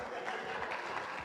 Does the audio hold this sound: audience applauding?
yes